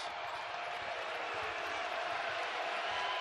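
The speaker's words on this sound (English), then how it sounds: "And the crowd trying to pump life back into this building after the lengthy timeout." Basketball arena crowd at an NDSU Bison game roaring in a steady, dense wash of cheering that fills the whole moment without letup, coming across as a distant, continuous mass of voices rather than individual shouts.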